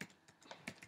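A few quick, soft keystrokes on a computer keyboard as a login is typed in, faint and close, over less than a second.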